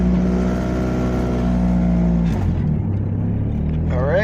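Honda CRX engine running at its first start of the season, loud and close, holding a steady hum before the pitch drops and rises again as the revs change.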